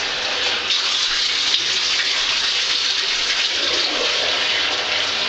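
Water pours steadily and loudly from a tap, rinsing and degreasing a screen-printing screen and its frame, a close continuous gushing wash with no voices.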